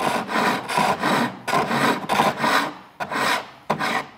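A hand file rasps across steel while shaping a 4-inch drawknife blade, loud close strokes in a steady rhythm of about six passes with brief pauses between them, no voices.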